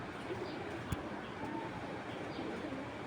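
Soft pigeon coos drift faintly through a steady hiss of ambient noise at a racing pigeon loft, with a brief knock partway through and no talking.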